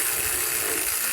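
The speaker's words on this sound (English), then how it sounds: "with this 3/8 drive swivel head ratchet and tighten it up" A 3/8-inch drive swivel-head ratchet clicks briefly and rapidly close up as it tightens an alternator bolt on a 2012 Honda Civic, one short dense burst of pawl clicking.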